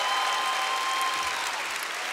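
Sustained audience applause fills a large hall at a tribute concert, a steady dense wash of clapping that stays loud throughout, with no voices standing out.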